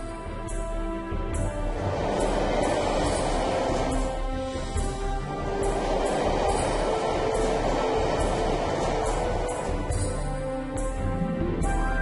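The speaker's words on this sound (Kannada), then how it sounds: "ವಾವ್, ಎಂತ ಮೆಟ್ರೋ ಟ್ರೈನ್ ಗಾಳಿಯಲ್ಲಿ ನಡೆಯುತ್ತೆ" Animated metro train running along an elevated track through a magical city, a steady loud rumbling roll that fills the whole stretch with no talking.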